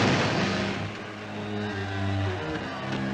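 A dense, roaring cartoon explosion from the 1940 Porky's Baseball Broadcast rumbles loudly and steadily, with low sustained tones underneath.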